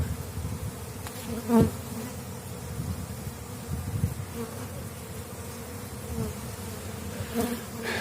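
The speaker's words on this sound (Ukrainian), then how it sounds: "Ось стільки бджоли." A dense, continuous buzz of many honeybees swarming close by at an apiary hive with a drone-laying colony, a low droning hum with occasional louder passes of individual bees.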